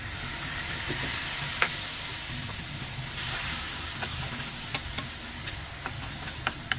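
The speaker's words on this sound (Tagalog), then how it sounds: "Lagyan natin ng konti ng toyo." Adobo beans sizzling in a pan as soy sauce is added, a steady frying hiss with occasional crackles and light stirring scrapes, close and continuous without talk.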